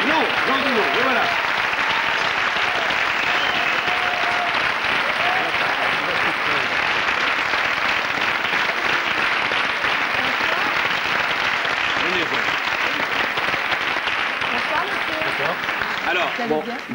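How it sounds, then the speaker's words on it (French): Sustained applause from a studio audience on a French TV set as a guest walks onto the stage, dense and steady for the whole stretch, with voices mixed into the clapping. "On va l'applaudir."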